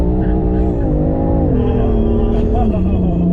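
A BMW M3 pulls away under hard acceleration, its engine a loud, continuous drone with steadily rising harmonics throughout, heard close from inside the car with voices faintly underneath.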